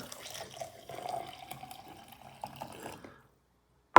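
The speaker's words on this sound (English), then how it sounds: "Then you simply add some hot water." Hot water pours into a Jogo coffee and tea brewer holding ground coffee or loose leaf tea, a soft close trickle lasting about three seconds before stopping, followed by a short knock.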